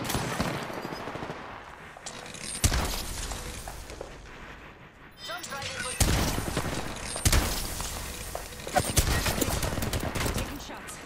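Rapid video game gunfire in a team shootout, with bursts and single shots crackling loudly and steadily over several seconds, punctuated by sharp louder cracks, with a voice talking underneath.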